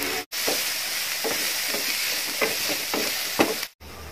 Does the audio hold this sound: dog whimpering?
no